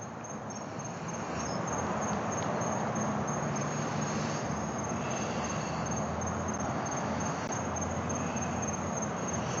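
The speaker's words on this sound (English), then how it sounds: "I can hear the crickets chirping." Steady, dense insect chirring of crickets fills the background at a constant level, with no voices and a faint low rumble underneath.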